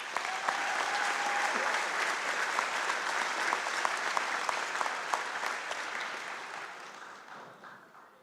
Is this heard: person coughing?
no